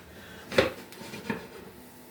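A mushroom pie being flipped out of a frying pan onto a large oiled plate gives two soft clunks about a second apart, the first louder, against a quiet room.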